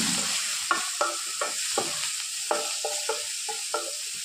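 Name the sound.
onions and green chillies frying in oil with lentils and mustard seeds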